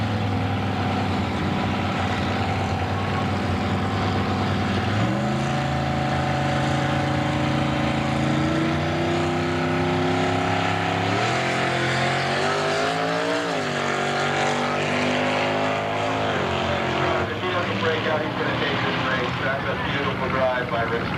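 Drag race cars launching down the strip at the 1997 Wildhorse Gambler's Choice Classic, a loud sustained engine roar climbing in pitch through repeated gear shifts, with an announcer talking over it.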